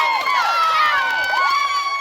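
Spectators cheer at a women's professional rugby match in Colorado, a steady roar of crowd voices with shouts and whoops rising above it throughout, fairly loud and continuous.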